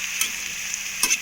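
Drumstick and brinjal curry with potatoes, oil and ginger-garlic paste being stirred in a pan, a steady soft sizzle with two brief scraping strokes of the spoon, close and alone.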